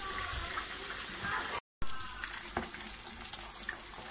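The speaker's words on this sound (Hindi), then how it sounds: "मछली मेरी हो रही है फ्राई बहुत स्लो स्लो हो रही है" Pieces of catla fish fry in a pan on a gas stove at full flame, a loud, close, continuous sizzle with faint stirring, broken by a brief silent gap.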